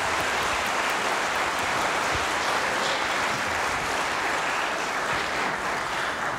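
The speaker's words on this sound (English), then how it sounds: "A round of applause for our fantastic band boosters." A packed audience at a high school band spring concert applauds the band boosters, a dense, continuous wash of clapping that holds steady throughout.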